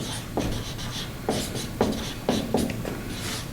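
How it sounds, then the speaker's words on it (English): Chalk or a marker writes on a board in steady scratchy strokes with small tapping starts, close and continuous for a few seconds, with no voice over it. "So let me write that down"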